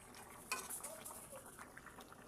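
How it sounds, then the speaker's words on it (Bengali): A spoon stirs cauliflower and egg curry in a pan with a soft, low scrape and faint sizzle, quiet and close, with one brighter clink near the start. "ডিম দিয়ে একটু নাড়াচাড়া করে দিচ্ছি।"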